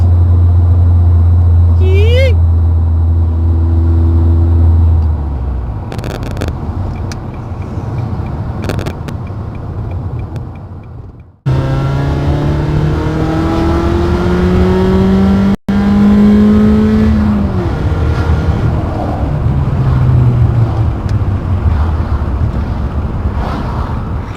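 A 2001 Ford Focus ZX3 engine with aftermarket headers and cat delete roars and revs through rising gears, loud and close, with heavy wind buffeting; a voice talks briefly over it.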